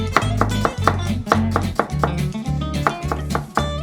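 Knife chopping carrots into bean-sprout-length strips for a Korean seasoned bean sprout side dish: close, crisp chops in a steady, even rhythm, about two or three strokes a second, each landing sharply on the cutting board.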